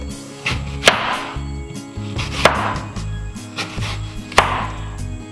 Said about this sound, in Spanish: vamos cortando la manzana en trozos pequeños